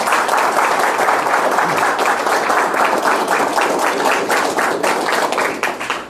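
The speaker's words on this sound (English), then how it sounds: "please give a round of applause for all of the candidates" An audience at a Kiwanis of Jonesboro circuit judge debate applauds the candidates, a full room of clapping where individual claps stand out, steady throughout and tapering off at the end.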